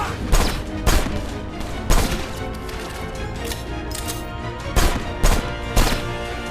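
Pistol and assault rifle fire in the video game Left Alive comes as sharp, loud shots in irregular bursts of about eight over a steady game background, with no talking.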